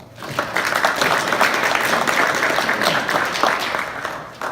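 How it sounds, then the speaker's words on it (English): A room of parents at a youth basketball coaches' meeting breaks into applause, a dense burst of clapping lasting several seconds before tapering off. "Give the parents a round of applause"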